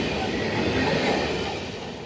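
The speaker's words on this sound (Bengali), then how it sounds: "আর ট্রেনটা এখান দিয়ে গেল" A train rolls past at close range through a street with shops, a steady broadband rumble and rattle holding level for the whole stretch with no voices.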